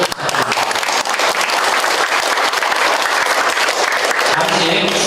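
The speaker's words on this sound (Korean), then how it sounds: "좋은 말씀을 해주신 시장님께 다시 한번 큰 박수를 부탁드립니다." Audience at a town residents' meeting with the mayor applauding loudly and continuously, dense clapping that fills the whole stretch without letting up.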